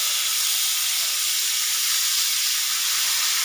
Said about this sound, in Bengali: এরপরে আমি এর মধ্যে পেঁয়াজটাকে দিয়ে দেবো।